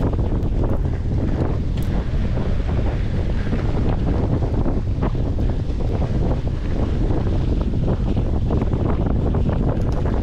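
Loud, steady headwind roars and buffets across the microphone throughout a mountain-bike marathon ride in Alūksne, Latvia, with no voices.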